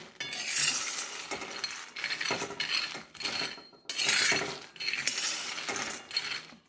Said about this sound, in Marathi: आता मी हे शेंगदाणे छान खरपूस असे भाजून घेणार आहे